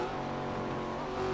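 A race car engine in an ARCA racing game at Nashville Superspeedway, heard as a steady, sustained mechanical drone with a constant pitch throughout the short moment.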